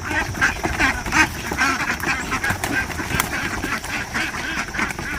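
A flock of ducks quacks busily and continuously close by, many overlapping calls forming a dense, chattering chorus outdoors in the morning with no talking.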